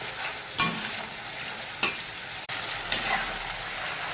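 Spice masala fries in a pan while being stirred, with a steady sizzle and three distinct scraping strokes of a spatula at regular intervals, close and clear, with no talking.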